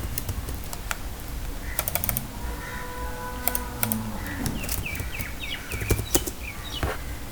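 Typing on a computer keyboard comes through as close, irregular clusters of key clicks with short pauses between bursts over several seconds, and a few louder taps near the end.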